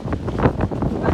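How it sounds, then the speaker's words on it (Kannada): Strong wind on the road to Mullayanagiri buffets the microphone in a short, loud, rumbling gust. "ಇಲ್ಲಿ ಕೆಳಗೇನೆ ಇಷ್ಟು ಗಾಳಿ ಇದೆ"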